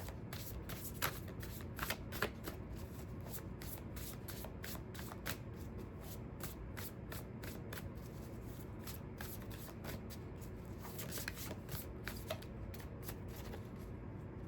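Soft, continuous riffling of a deck of cards being shuffled over and over, crisp little flutters repeating at close range in a quiet room.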